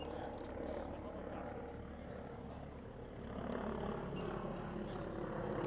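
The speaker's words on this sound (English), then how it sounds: "The helicopter goes over the head." Helicopter rotor thrum droning overhead at an outdoor softball game, a pulsing low throb that swells louder in the second half, with faint background voices.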